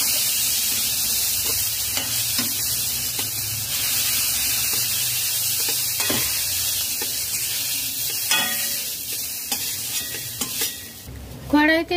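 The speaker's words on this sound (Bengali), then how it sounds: "কড়াইতে 3 টেবিল চামচ সরষের তেল দিয়েছি। দারচিনি, 2টি কাঁচা লঙ্কা বড় বড় করে কেটে দিয়েছি।" Cinnamon and green chillies fry in mustard oil in a wok, a constant bright sizzle with occasional stirring scrapes and clinks of a utensil against the metal, ending in a louder clatter.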